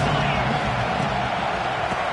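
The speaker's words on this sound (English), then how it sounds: "Crowd trying to make life miserable for this offense." Stadium crowd roars at a college football game, a dense, loud, continuous wash of massed voices with no distinct individual sounds.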